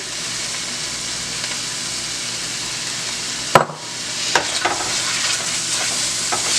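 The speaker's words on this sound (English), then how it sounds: "I'm sauteing my garlic so all those good flavors can come out." Garlic and onion sauté in a pan for a chicken stir fry, a steady broadband sizzle running throughout with a sharp utensil knock midway followed by a few lighter stirring scrapes, no voices.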